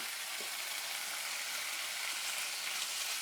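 Strips of bacon sizzle and fry steadily in a hot pan, a constant bright crackling hiss close by with no talking.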